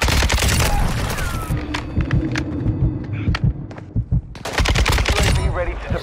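Rapid automatic rifle fire from a Kastov 762 in a Call of Duty-style shooter, dense bursts of loud shots in the opening seconds and again near the end, with scattered single shots, game radio chatter and a low rumble between them.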